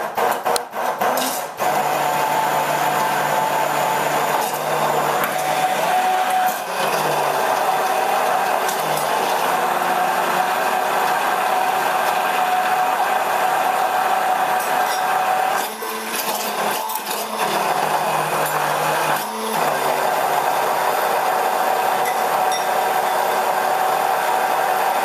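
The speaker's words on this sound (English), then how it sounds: "So I'm going to puree it for just a minute." Immersion blender purees vegan, gluten-free rice pudding in a pot, a loud, steady whirring drone that runs continuously for the whole stretch, with brief dips and shifts in pitch as the blade moves through the thick mixture.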